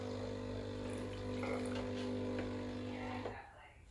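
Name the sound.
hot water dispensing from Breville Barista Pro espresso machine tap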